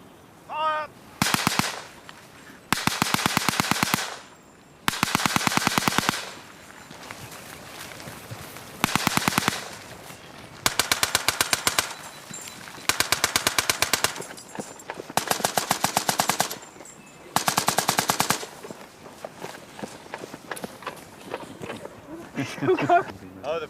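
Cadets advancing in an extended line across a Somme battlefield fire in repeated long bursts of rapid gunfire. The bursts rattle loudly and close, with short gaps between them, and voices are heard.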